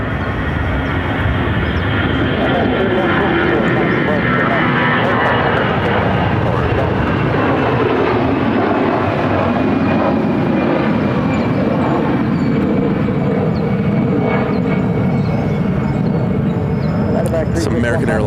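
Airliner jet engines roar at Phoenix airport, a loud, continuous broadband rumble with a faint whining tone that slowly shifts, heard close and steady for the whole stretch.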